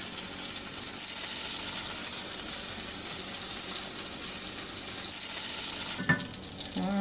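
Homemade beef tallow whipped with a spoon in a bowl, giving a steady close scraping, sizzle-like swish that runs without a break before a few sharper clinks near the end.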